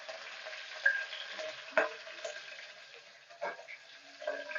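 Garlic dropped into hot oil with chillies in a pan, giving a soft, steady sizzle with a few louder crackles and stirring scrapes, fairly faint and close.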